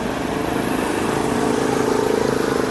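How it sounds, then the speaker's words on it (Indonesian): A steady mid-pitched motorcycle engine drones close by as it pulls away, a constant rumble with slight rising pulses and no pauses. "Motor melaju."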